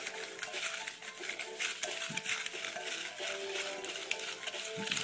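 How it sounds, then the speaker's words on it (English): About thirty-three paper raffle slips with names are stirred around in a bowl, making a soft, steady papery rustle with light scraping. The sound is faint and continuous, with no talking. "I'm gonna put them all into this bowl. Alright, mix it up."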